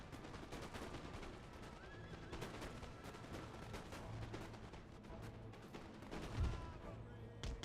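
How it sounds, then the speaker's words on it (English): Volleys of musket gunfire crackle repeatedly through a Total War: Empire battle during the American War of Independence, dense bursts layered over a constant din with occasional heavier booms. "A hail of gunfire."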